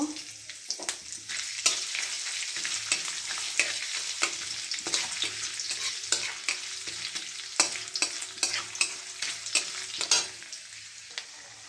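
Cumin seeds and bay leaf sizzle in hot oil, with chopped ginger added, for a Bengali tempering. The frying is loud and close, with a constant crackling hiss and bursts of spattering, and no voices.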